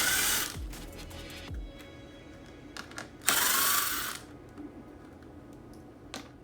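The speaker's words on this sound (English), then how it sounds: "So we want to remove the 4 6mm bolts that are holding the radiator shrouds on at the top." Four 6mm bolts being removed from the upper radiator shrouds of a dirt bike, with bursts of ratchet clicking and whirring tool spin, close and loud in short separate spurts between quieter handling noises.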